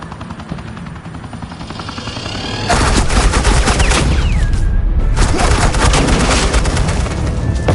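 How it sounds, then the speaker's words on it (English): Loud suppressing gunfire in Batman: The Enemy Within, a dense continuous barrage of rapid shots that swells and stays heavy, with a helicopter-like roar and whooshing effects underneath. "Suppressing fire."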